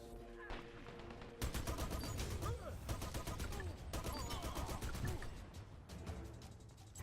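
Rapid bursts of automatic gunfire from the video game Dirty Bomb crackle in quick volleys, the shots dense and repeated with short gaps between strings.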